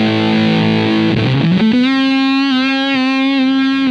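An electric guitar plays through a fuzz pedal with its feel knob turned up, giving a saturated, buzzy tone: a chord decays, a note slides upward, then settles into a loud, sustained note with dense harmonics.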